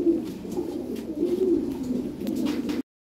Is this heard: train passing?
no